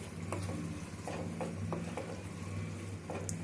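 Curry leaves sizzle and crackle in hot oil for Pollachi chicken curry, a steady frying hiss with scattered pops and brief stirring clinks, close and fairly loud, with no talk.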